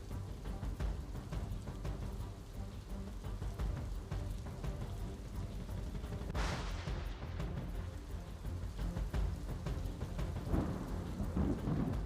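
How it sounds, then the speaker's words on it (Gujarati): Heavy rain pours down steadily in Vadodara, a dense, loud roar of falling water broken by a rumble of thunder partway through, with no voices. "મોડી સાંજે મેઘરાજાની જમાવટ અડધો કલાક સુધી વરસાદે ધબધબાટી બોલાવી।"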